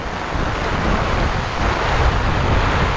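Heavy rain pouring outdoors over village fields in the Konkan, a dense steady roar with wind buffeting the microphone, loud and continuous without talk.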